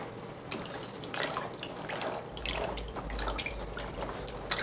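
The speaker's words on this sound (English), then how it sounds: "now I'm going to dip this in and submerge it under the water" Fabric garment being dipped and pushed under the water of a soda ash dye bath in a tub, giving soft sloshing and dripping liquid sounds, close and fairly quiet, with a low rumbling swirl midway.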